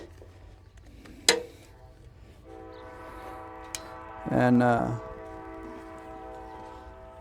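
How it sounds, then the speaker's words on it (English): A train rumbles past with a steady drone, a sharp clank, then a loud horn blast blaring for about a second before the rolling noise continues. "enjoy the sounds of the train like they're omnipresent."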